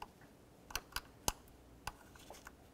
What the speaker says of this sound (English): Listen for a click, give it a tug.